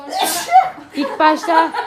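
A single sneeze bursts out near the start, right after someone sniffs hot pepper during a blindfolded smell-guessing challenge, followed by close, clear talking.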